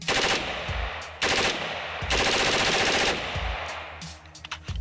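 Loud bursts of automatic M-16 assault rifle fire, several rapid strings of shots separated by brief gaps, close and sharp with no voices.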